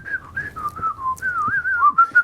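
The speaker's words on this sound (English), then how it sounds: "you should embrace the whistling" A person whistles a wavering, slightly off-key tune up close, the notes sliding and bending without pause.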